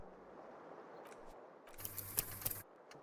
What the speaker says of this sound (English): You hear a jingle. Keys are clinking in the pocket of your flare-cut pants.